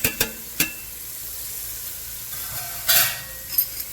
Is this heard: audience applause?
no